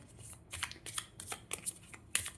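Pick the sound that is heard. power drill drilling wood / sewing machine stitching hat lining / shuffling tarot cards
shuffling tarot cards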